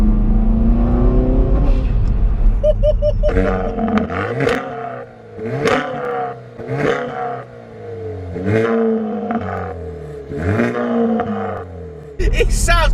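A 320 bhp Hyundai i30 N hot hatch with a Milltek exhaust revs hard and drops again several times, a deep raspy rise and fall with a crackle between blips, loud and close.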